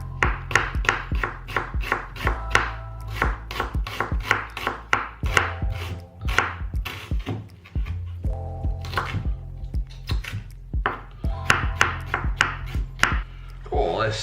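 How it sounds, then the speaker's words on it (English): A knife slices halved onions on a chopping board in quick, crisp, regular strokes, close up, with a short pause midway before the rhythmic chopping resumes. "all I'm going to do with the onions is cut them in half like that, and then just slice them"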